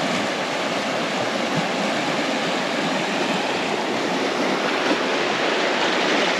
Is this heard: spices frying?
no